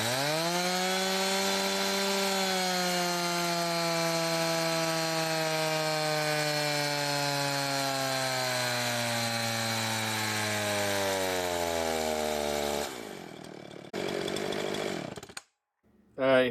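A Husqvarna 350/346XP hybrid chainsaw runs at high revs on a dyno, its loud buzzing tone sliding slowly downward as it loads for about thirteen seconds before cutting off into brief rumbles and a final burst.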